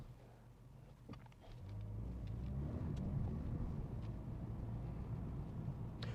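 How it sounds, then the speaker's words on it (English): A car drives through Amsterdam city-centre streets, its engine a steady low hum with road and tyre noise swelling after the first second and then holding even and close. "let's see if we can drive through it again"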